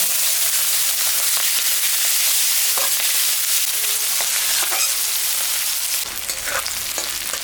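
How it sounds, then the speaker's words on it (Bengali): Sliced onion sizzles loudly in oil tempered with cumin, bay leaf and dried chili, reused from frying fish, a dense close hiss with scattered crackles and stirring scrapes that shifts near the end; no one speaks. "জিরা তেজপাতা শুকনো লঙ্কা সম্বরা দিলাম পেঁয়াজটা আমি দিয়ে দিলাম"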